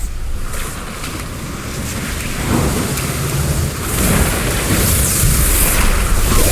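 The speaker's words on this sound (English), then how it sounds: "A storm is gathering!" Rolling thunder and steady rain fill a World of Warcraft thunderstorm, a continuous loud wash that swells stronger toward the end, with no speech over it.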